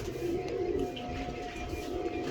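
A pet female pigeon coos in a low, soft, continuous murmur, close by and faint, with no voices.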